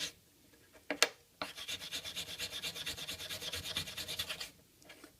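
A brass brush scrubs metal-detected coins clean, with a couple of scrapes and then a quiet, steady back-and-forth rasping that repeats rhythmically for several seconds, close up and alone.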